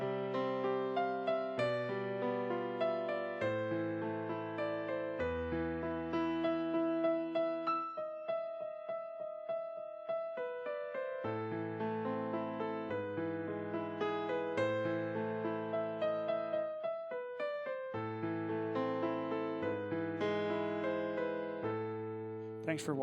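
Solo piano plays Für Elise with both hands together, the rippling right-hand melody over steady left-hand broken chords. It runs continuously at a moderate tempo, clear and close, with no talk over it.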